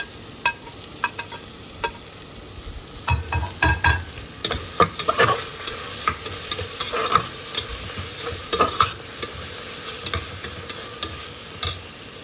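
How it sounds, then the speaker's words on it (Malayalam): Chicken with tomato and coriander leaves is stirred in a pan, pressure-cooker chicken style, with repeated close scraping and clacking strokes of the spoon over a soft, steady sizzle and no talking. "തക്കാളി ചെറുതായിട്ട് വഴണ്ടതിന് ശേഷം മല്ലിയില ചേർത്ത് മിക്സ് ചെയ്യുക"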